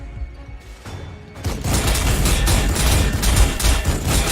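Terminators firing in the Warhammer 40,000: Sanctus Reach video game, a quiet opening that breaks into a loud, dense barrage of shots and booms lasting several seconds.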